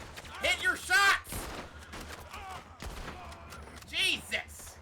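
Pistol gunfire in a video game: sharp, loud shot bursts crack out twice amid excited voices that shout and react throughout.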